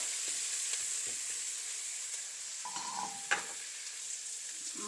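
Potatoes sauté in a pan for an egg curry, a steady hiss of sizzling oil running throughout with occasional soft scrapes and taps of a stirring spoon.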